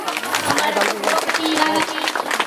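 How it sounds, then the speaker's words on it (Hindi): Enthusiastic applause from the crowd at a Rana Tharu Teej festival program in Nepal, steady clapping close and loud, with voices talking over it. "एक बार जोरदार ताली बजा दियो"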